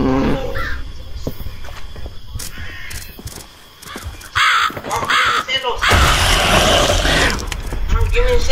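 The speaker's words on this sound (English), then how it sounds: "Birds, wait, hold up!" Crows caw in the video game Sign of Silence, harsh calls coming in bursts over a busy, noisy game backdrop, with people talking over it throughout.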